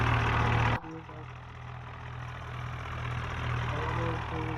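A video-game tractor engine drones in a steady low hum, with a brief louder burst at the start that drops to a constant mid-level idle-like rumble.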